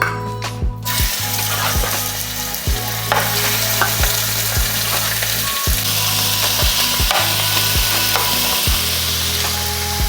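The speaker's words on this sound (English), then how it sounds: "you pretty much just want to brown each side of the meat" Meat browning in a hot frying pan before going into a crock pot, a loud steady sizzle with repeated knocks and scrapes of a utensil against the pan, close, with no talking.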